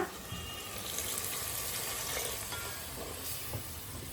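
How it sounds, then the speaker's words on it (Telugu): Water pours steadily into a cooking pot of soaked rice in a continuous, fairly faint splashing stream, with no voices. "బియ్యం బాగా నానినాయి కాబట్టి ఇక వాటర్ వేసేస్తున్నా"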